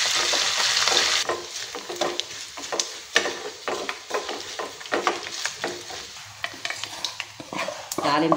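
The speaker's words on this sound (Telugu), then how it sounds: "తాలింపు వేగిపోయిందండి." Tempering of dried red chillies, seasoning spices, crushed garlic and curry leaves frying in hot oil gives a bright, continuous sizzle and crackle. Scattered stirring clicks and a distant dog bark sit under it.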